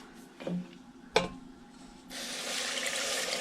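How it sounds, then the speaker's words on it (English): Water and corn syrup pour into a pot for saltwater taffy: a couple of soft splashes and a knock, then a steady liquid pour rushing through the last second and a half, fairly quiet and close. "Now that's half a cup of water and half a cup of corn syrup."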